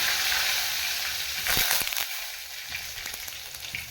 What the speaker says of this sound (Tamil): கருவேப்பிலை போட்டுக்கலாம்